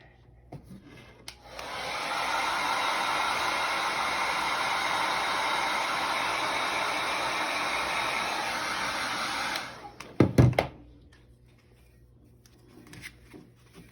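A hair dryer blows over a wet paint layer, switching on with a steady whooshing roar that holds for about eight seconds, then cuts off, followed by a few clunks from it being set down.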